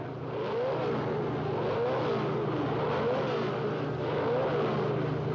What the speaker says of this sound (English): The engines are starting up now